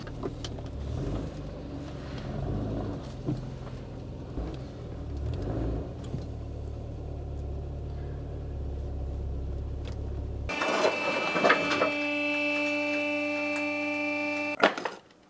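A Porsche 924 engine idles with a steady low rumble and droning exhaust, then the tone shifts to a harsher, tonal hum before cutting off; exhaust noise from a loose bushing.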